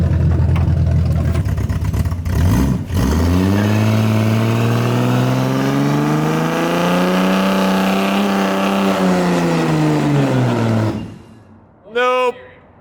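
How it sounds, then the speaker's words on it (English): A nitrous-injected AMC Hornet with an open differential and one wheel locked tries a burnout: the engine roars hard and holds a high, steady rev for several seconds, then cuts off. A short final blip of revving follows after a brief quiet gap. "we're gonna lock this one wheel and burn the other one off and try to do donuts with an open diff car"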